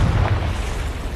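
A Confringo spell explodes in Hogwarts Legacy, a short heavy fiery boom with deep low rumble that fades over about a second.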